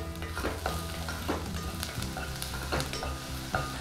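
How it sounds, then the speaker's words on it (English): Onions fry quietly in a pan with a soft continuous sizzle, broken by occasional stirring scrapes and taps of a utensil. "I'm going to next add in some onions, and we're going to cook this until they are slightly golden"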